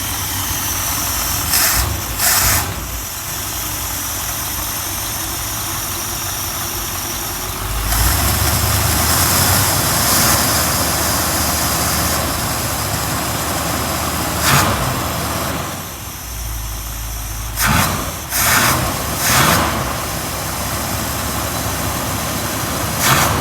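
A 1957 Buick engine idles steadily right after its carburetor was reinstalled, a loud low rumble with a few sharp revs and surges over about twenty seconds, heard close up with no talking.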